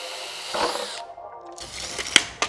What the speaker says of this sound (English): So this is where I'm gonna wanna drill a hole at that 6 foot mark.